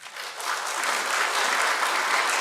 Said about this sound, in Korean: 근데 박수는 구글에다 하세요